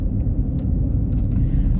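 Steady low rumble of a car rolling down a road, a continuous loud drone of engine and tire noise heard from inside with no voices.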